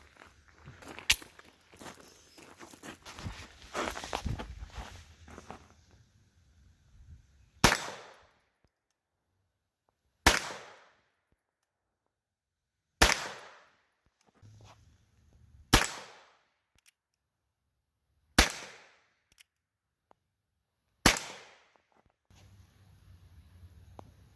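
Six sharp, loud gunshots from .22LR high-velocity rounds fired from a pistol during a chronograph test ring out alone at a steady spacing of a few seconds, after a stretch of handling and shuffling noises.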